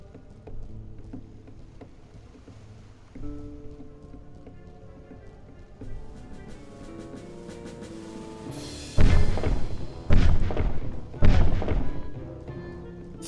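Three heavy bomb explosions in the twin-stick action RPG Rum & Gun burst in quick succession near the end, loud booming blasts following quieter game music and effects.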